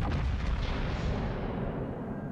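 Naval video game ship cannon firing, one deep booming blast with a rumbling, decaying tail, moderately loud and heard without talk.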